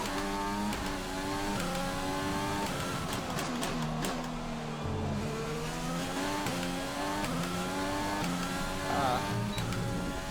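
Simulated F1 race car engine from the F1 2020 video game drones at high pitch around the Australian GP track, rising and falling steadily through gear changes with no pauses.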